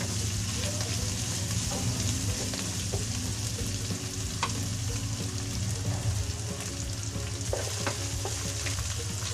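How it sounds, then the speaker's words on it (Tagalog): Sigarilyas and onion are stirred in a frying pan, a continuous close sizzle of hot oil with scraping utensil strokes and occasional clinks against the pan, steady and fairly loud with no one talking. "Halo-halo lang po para hindi po siya manikit."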